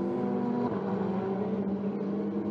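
A Ferrari Challenge race car at Misano World Circuit, its engine droning steadily with a tonal whine that dips as it brakes for a turn and then picks up again on the throttle, continuous and fairly loud.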